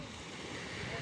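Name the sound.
sea waves and breeze at a beach in Odesa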